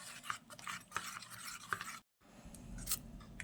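Malpua batter being mixed with ground cardamom and fennel, a steady scraping stir with soft rubbing strokes and brief sharper clinks, close up, pausing for a moment before resuming.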